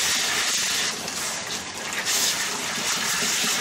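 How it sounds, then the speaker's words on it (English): A garden hose blasts water hard through the roots of a cymbidium orchid during repotting, a loud, continuous spraying hiss with slight surges and no talk. "Blasting it with a hose."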